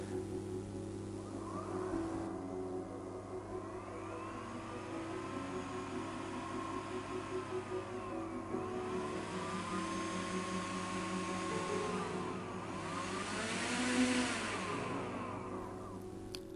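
Two electric motors run together from a single ESC on a test bench, giving a continuous whirring whine whose pitch sweeps up and down in repeated arcs. The motors are heard alone with no talking.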